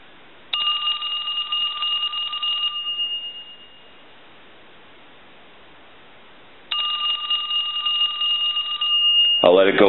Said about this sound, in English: I want to ring the telephone. I'll let that go several times